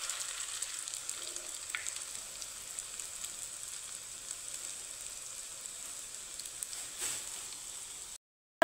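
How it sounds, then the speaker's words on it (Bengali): Soybean and mung dal koftas deep-fry in hot oil, a soft, even crackling sizzle that runs steadily with a few brief clicks before cutting off abruptly, with no talking. "একইভাবে বাকি কোপ্তাগুলো আমি দিয়েছি, লাল লাল করে ভেজে নেব"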